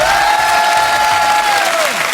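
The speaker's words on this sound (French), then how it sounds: "J'aimerais que vous applaudissiez celle qui nous a rejoint" Audience at the Olympia in Paris applauding comedian Anne Roumanoff during a radio show anniversary, a dense, loud burst of clapping that holds steady, with a whistle-like tone over it.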